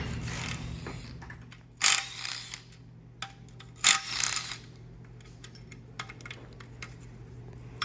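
Ratchet clicks and tool clanks while hidden 13mm bolts come out of the oil pan on a Pentastar 3.6 V6 during a teardown, in two louder bursts of metallic ratcheting over a quieter background of small clinks and taps.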